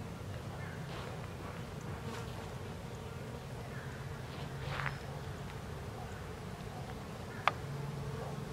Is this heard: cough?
no